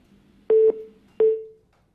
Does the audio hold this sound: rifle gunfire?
no